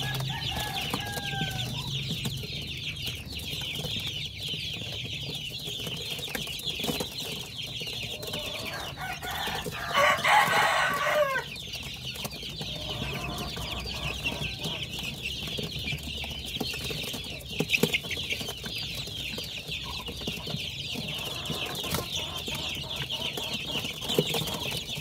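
Darag native chickens in a backyard poultry setup, with steady soft clucking and scattered calls from several birds nearby, a brief louder burst of fluttering or squawking midway, under continuous outdoor ambience without talk.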